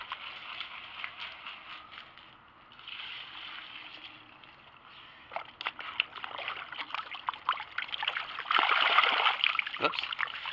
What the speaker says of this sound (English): What I'm doing off camera that you can't see is just draining off some of the muddy water